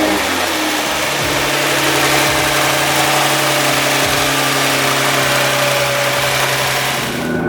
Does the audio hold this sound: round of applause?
no